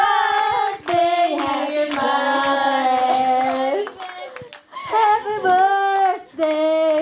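Rhythmic hand clapping from an audience keeps time under a group singing Happy Birthday loudly together, with a few brief pauses between phrases.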